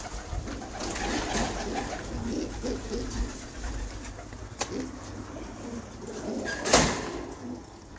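Champion pigeons coo softly in a loft, with low murmuring calls and an occasional flutter or knock nearby, steady background with no talk.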